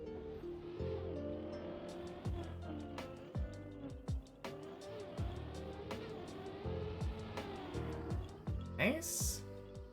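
Engine of a car in the racing video game Deep Dip 2, a fairly quiet hum that revs and drops repeatedly, with crashes and skids, heard under ongoing conversation.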